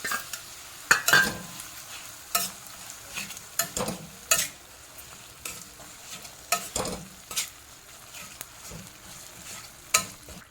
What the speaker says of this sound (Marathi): हे बघा गुळ मेल्ट होईपर्यंत आपण इकडचं हे सर्व मिश्रण एकत्र करून घेऊया